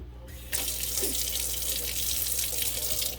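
Warm tap water runs steadily into a sink for washing a doll's hair, starting abruptly after a brief quiet moment and continuing as a loud, even splashing rush with no talk.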